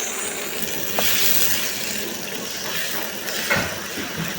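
Water, about one and a half glasses, is poured into a pan of simmering poppy seed (khashkhash) masala curry, a steady splashing gush with a couple of brief clinks, close and alone without speech.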